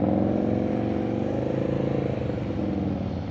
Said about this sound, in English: I want to hear the revs all the way through the turn